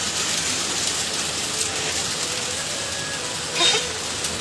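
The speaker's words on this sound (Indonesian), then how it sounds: "Kalau nonton kedengeran nih suara hujan nih terus banget." Steady rain outside forms a continuous close hiss throughout, with a brief louder gush near the end and a few faint tonal blips underneath.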